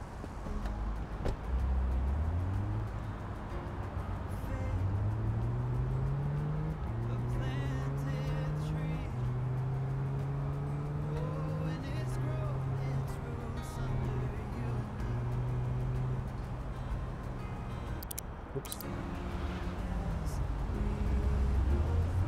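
Engine of a car driving in the game Big Ambitions, a steady droning hum with rising and shifting pitch as it accelerates, continuous and fairly loud throughout.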